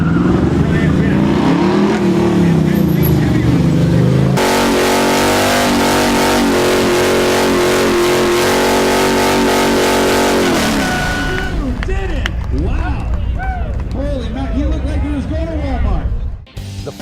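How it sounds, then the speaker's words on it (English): A car engine revs hard during a burnout contest at a hot rod event, a loud sustained roar that surges and falls, with a person talking over the noise. "Royal Purple held a burnout contest."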